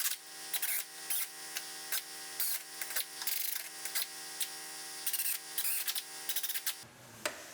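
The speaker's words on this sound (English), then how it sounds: "Drill out the spot welds at the top of our quarter and then our taillight pocket." An electric drill bores out spot welds along the top of a Honda Civic Si quarter panel and taillight pocket, giving a run of short, close, repeated whirring bursts separated by brief pauses, with no voices.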